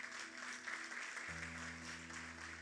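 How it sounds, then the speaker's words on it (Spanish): Congregation applauding during a church service, a steady wash of clapping hands with a low sustained organ or keyboard tone underneath throughout. "Denle un aplauso al Señor"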